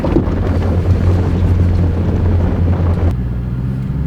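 A car drives along with strong wind buffeting a mounted camera microphone, producing a loud, continuous roar and rumble that cuts back slightly near the end.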